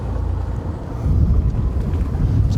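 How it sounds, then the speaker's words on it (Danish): Wind blows from directly astern as a sailing boat heads into harbour, a steady low rushing buffet across the microphone, loud and continuous with no voices. "vi kan se, at vinden kommer lige bagfra"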